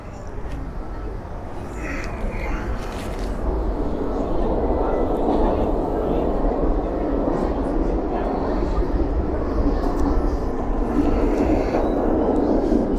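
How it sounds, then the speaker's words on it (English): A New York City subway train rumbles beneath a 7th Avenue street in Greenwich Village, a low, heavy roar building and then holding steady, loud and continuous, with faint street sounds above it. "If you hear that rumbling underneath us, that's the subway."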